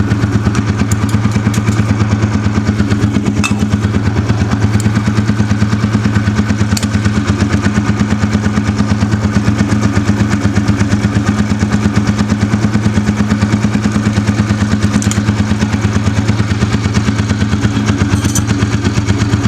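A modified, restored Royal Enfield Bullet motorcycle idles steadily with a loud, even single-cylinder thump and mechanical clatter close by, running without a break and with no voices over it.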